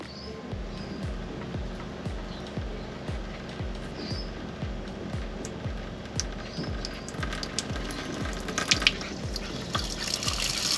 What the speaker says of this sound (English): it's just a pure little trickle that comes out of the tap